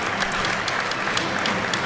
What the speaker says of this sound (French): sous les acclamations du public, en tous les cas les applaudissements.